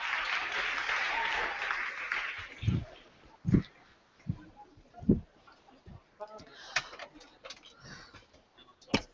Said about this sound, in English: Big round of applause for Paula.